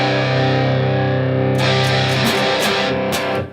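A distorted electric guitar power chord sustains heavily, then is struck again several times in a chugging rhythm, loud and up close.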